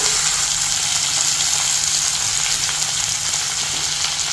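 Two tomatoes with salt sautéing in a pan give a loud, steady, even sizzle with no pauses, only faint scrapes here and there.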